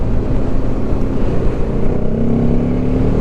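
Sporty MASH K750 motorcycle with a short exhaust riding past, a steady loud engine drone with a low rumble and a rising tone near the end, heard alone without talk.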